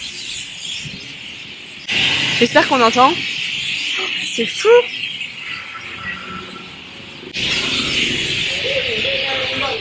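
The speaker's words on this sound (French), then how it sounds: "tout ça là c'est des oiseaux et je sais pas si on va entendre, mais ils piaillent comme jamais" A big flock of birds chirps and squeals loudly at dusk over a closing municipal market in Sukhothai, Thailand, a dense high chorus that rises in two loud waves while a person speaks briefly over it.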